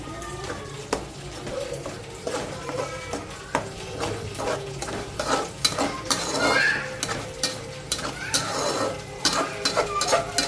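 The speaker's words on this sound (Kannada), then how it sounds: "ಸ್ವಲ್ಪ ಅರಿಶಿನ ಪುಡಿ ಹಾಕಿ ಸ್ವಲ್ಪ ಫ್ರೈ ಮಾಡಿ ಅದನ್ನು ಸ್ವಲ್ಪ ಚೆನ್ನಾಗಿ ಮಿಕ್ಸ್ ಮಾಡಿ ಫ್ರೈ ಮಾಡಿ" Turmeric powder being fried in oil with the cooking base, a continuous sizzle under frequent metal spoon scrapes and clinks against the pan, with no speech.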